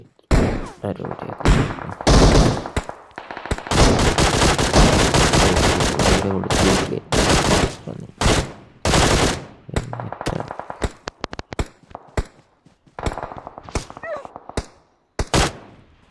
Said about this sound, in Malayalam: ഇവിടെ എന്തോ വെടിവെപ്പ് എന്തോ നടക്കുന്നുണ്ട്